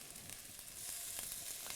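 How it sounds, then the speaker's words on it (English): Beef browning in a pot of stew with onions, a steady close hiss and crackle of frying that grows a little louder partway through, with no talking. "We're gonna let that brown. Let that kind of sizzle up in there."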